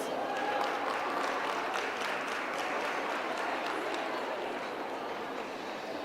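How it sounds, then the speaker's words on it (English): Sustained applause from a conference audience fills a large hall at the Standard Bank Top Women Conference, a dense steady wash of clapping that holds at an even level throughout with no voice over it. "Another round of applause for Avis."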